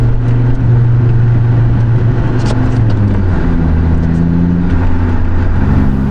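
An Audi Quattro winter beater drives along, its engine droning steadily and loudly from close inside the car with a low rumble throughout and no talk.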